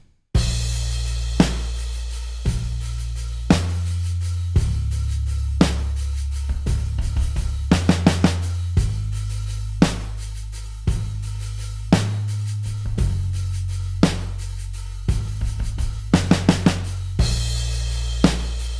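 A mix of an indie folk song plays with bass and drums together, a deep sustained bassline shifting between notes under regular kick and snare hits, loud and clean with no voices.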